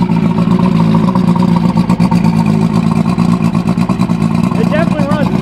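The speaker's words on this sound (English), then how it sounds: "if you can hear, it doesn't rev up as high as when I rev it up from there" A 100 hp Evinrude Starflight outboard engine idling and revving in a steady, loud mid-pitched drone with rapid firing pulses, someone talking over it throughout.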